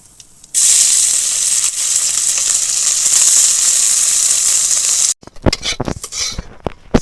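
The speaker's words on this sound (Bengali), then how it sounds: "আমি মৌরলা মাছগুলো ভেজে নেব" Small mourala fish fry in hot oil with a loud, steady, close sizzle that holds for several seconds. It then cuts off, followed by scattered clatter and stirring.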